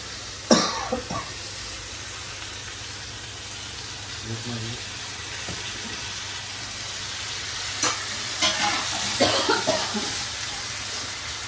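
Prawns fry in a hot pan for thecha prawns, a constant sizzle broken by stirring scrapes, while a person coughs a few times nearby.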